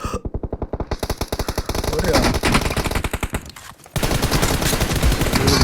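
Rapid automatic gunfire from PUBG plays in long, loud bursts with a short pause, while players talk and laugh over it.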